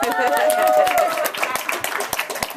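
A small crowd claps in a short burst that thins to scattered claps, with people talking over it.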